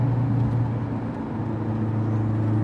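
A Renault 5 Turbo 1 engine drones steadily under boost, a constant low, even hum heard from inside the car with no talk over it.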